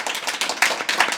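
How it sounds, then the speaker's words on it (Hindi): A brief burst of clapping from schoolchildren in a government school classroom, with quick uneven claps close by and no talk. "तालियां बजा दीजिए।"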